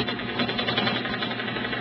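Domestic sewing machine stitching a quilt, with a steady, dense motor whir and a rapid needle chatter running without a break, close and loud, with no voices.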